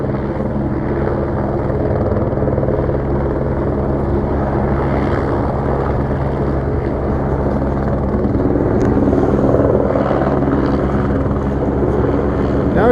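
A helicopter hovers overhead, a loud, continuous, droning rotor and engine roar that holds steady for the whole stretch, with a slight swell near the end.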